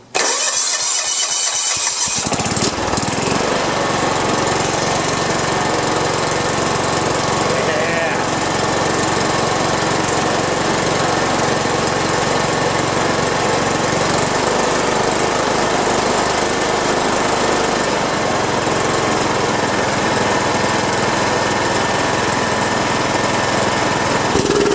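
A John Deere 170 riding mower's Kawasaki FC420V engine, which has a backfiring fault, cranks and catches after a brief quiet moment, then runs loud and steady close by for the rest of the time, with its rough mechanical drone continuous.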